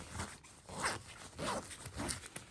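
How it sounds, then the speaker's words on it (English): A side zipper on a travel bag is pulled in several quick, rasping strokes, close and quiet, with short pauses between pulls. "Get you a bag that has a side zipper."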